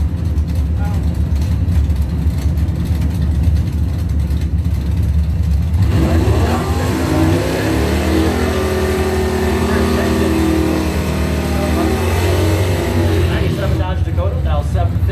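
Dodge Dakota and Camaro drag racing at a memorial race event, engines roaring loudly as they launch and accelerate with rising, sweeping tones, under an announcer's voice throughout.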